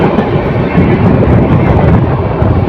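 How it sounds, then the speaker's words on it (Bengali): The Mohonagor Provati Express passenger train runs toward Bhairab Bazar Junction in Bangladesh, heard as a loud, continuous rumbling roar with rattling and wind buffeting, as if recorded on board close to the noise. "মহানগর প্রভাতে এক্সপ্রেস ট্রেনটি অল্প কিছুক্ষণের মধ্যে ভৈরব বাজার জংশনকে প্রবেশ করবে"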